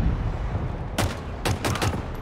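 Rifle gunfire in the shooter Halo Infinite, with two or three loud bursts of rapid shots over a rumbling battle background and no talking.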